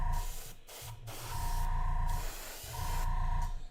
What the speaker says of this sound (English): all I had to do was spray the crap out of them like this